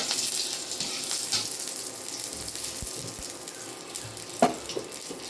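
Poppy seeds and a green chilli fry in a pan for a potato mash dish, giving a soft, steady sizzle with a few light clinks and knocks near the end.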